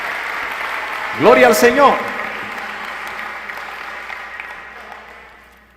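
Church congregation applause as a steady background patter of clapping, with a voice briefly exclaiming over it early on before the clapping tapers off.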